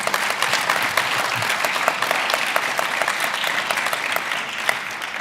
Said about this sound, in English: Let us give our spouses and loved ones a round of applause to thank them.